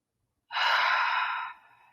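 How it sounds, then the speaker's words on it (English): A single deep, close breath drawn in a quiet room, lasting about a second and fading into a soft exhale, with no voice. "close your eyes, take a deep breath"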